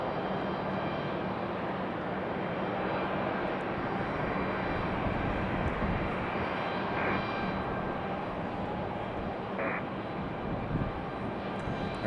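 A United Express Embraer E170 operated by Republic Airways arrives at Raleigh-Durham International Airport, its engines a continuous, fairly loud roar heard alone.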